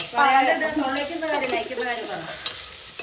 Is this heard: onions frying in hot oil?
yes